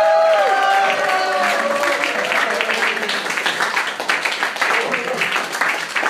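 A concert audience at a live orchestra show applauds, dense clapping rising over the fading end of sustained tones and then continuing alone with some crowd voices.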